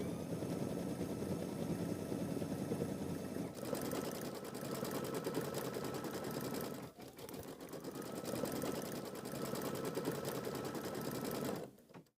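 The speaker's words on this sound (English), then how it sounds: "it's first going to stitch out the placement outlines for the little stars" An embroidery machine stitches placement outlines for small stars onto a mini quilt block held in a hoop, a steady, loud mechanical hum and rapid needle chatter running continuously with brief dips and a stop at the very end.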